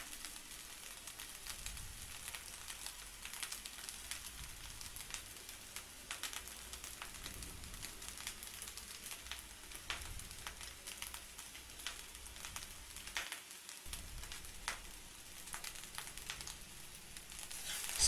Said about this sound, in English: Stir fry this for 2 minutes.